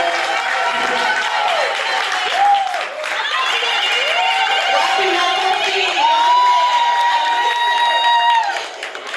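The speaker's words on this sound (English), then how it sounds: "thank you for this stormy applause for me" A large crowd at a live cooking event claps and cheers steadily for a town mayor, with shrill whistles rising and falling above the noise before it begins to fade at the end.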